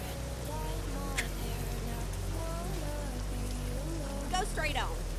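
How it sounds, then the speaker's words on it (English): Steady rain patters on a vehicle during a convoy drive, a soft continuous hiss beneath faint low engine hum, with brief tonal chirps and sweeping sounds drifting in. "Raining."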